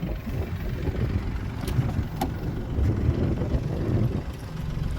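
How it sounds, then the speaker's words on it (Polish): A 2018 Mini Cooper automatic's three-cylinder engine idles with a low, steady, slightly uneven rumble, close by and without voices. "Na pewno słyszycie, że silnik sobie pracuje."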